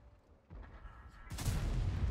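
A tank cannon fires in World of Tanks, a sudden loud boom breaking into low rumbling battle noise, with faint game sounds beforehand.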